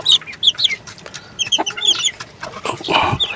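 Chickens and day-old chicks clucking and peeping close by, a busy scatter of short high chirps and clucks in quick bursts, with a louder fluttering flurry near the end.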